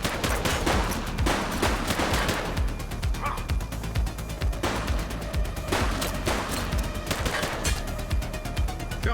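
A police shootout in the video game The Precinct, with dense overlapping gunshots cracking continuously throughout, loud and busy, some sharp barking-like bursts mixed into the clatter.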